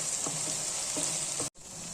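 White okra (bhindi) fries in a pan in a steady sizzle with a few soft stirring scrapes, broken by a brief drop to near silence before the hiss returns; no talking.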